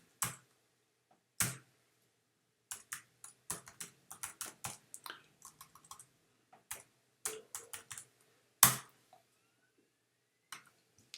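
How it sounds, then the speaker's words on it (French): Typing on a computer keyboard, heard as close, crisp key clicks in uneven bursts with short pauses between them, with no one talking. "Et on tape"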